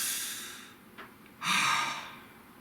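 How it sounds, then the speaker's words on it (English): A single deep breath: a soft inhale followed by a fuller, breathy exhale like a sigh, close and quiet, with no talking. "Nice deep breath"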